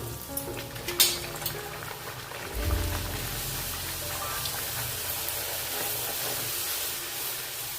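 A stuffed potato poori fries in hot oil, starting with light crackling and a sharp clink. It then swells into a loud, steady sizzle that keeps bubbling up close.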